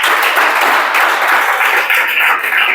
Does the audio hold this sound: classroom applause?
yes